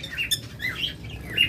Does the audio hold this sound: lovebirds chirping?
yes